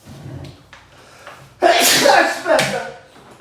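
A single loud sneeze bursts out after a quiet stretch, followed by a brief second exhale, close to the listener.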